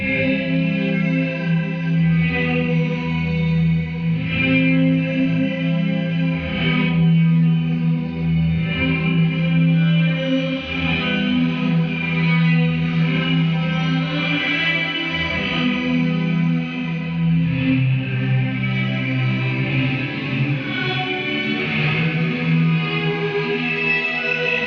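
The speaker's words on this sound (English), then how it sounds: "if we mix the shimmer reverb with the Space Hole, this is what we get" A sustained, shimmering wash of guitar tones through shimmer reverb mixed with Space Hole reverb, dense echoing harmonics swelling and ringing out continuously without any voices.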